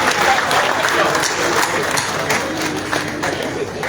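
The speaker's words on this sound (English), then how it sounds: "clap again for the beautiful performance." Applause from an audience at a ship commissioning ceremony on Mesurado Pier fills the scene with steady, dense clapping throughout, fairly close and continuous, with crowd murmur mixed in.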